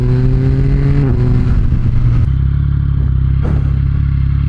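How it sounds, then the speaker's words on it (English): Yamaha R9 motorcycle fitted with a new aftermarket exhaust, heard up close while riding: a loud, steady engine drone whose pitch climbs, drops at a gear change, then settles into a deep burbling tone. "God, it's such a good sounding bike."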